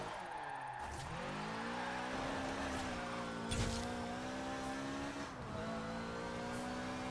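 A Toyota MR2 accelerating in the racing video game Forza Horizon 4, engine pitch climbing smoothly through several gear changes with brief dips between, a steady linear pull with faint tire noise.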